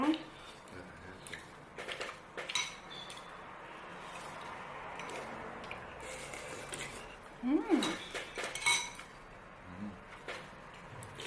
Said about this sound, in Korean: 설거지 내가 해줄게.